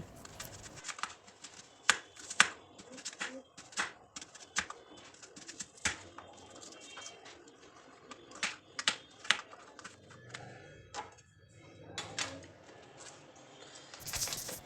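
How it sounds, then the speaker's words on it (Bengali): An onion is sliced thinly with a knife, giving quick repeated crisp cutting taps in an uneven rhythm, close and fairly faint. "পেঁয়াজ আমি পাতলা পাতলা করে কেটে নিচ্ছি"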